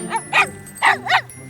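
A cartoon puppy named Torch barks four times in quick succession, short sharp yaps in two pairs with a faint jingle underneath, close and clear with no talking.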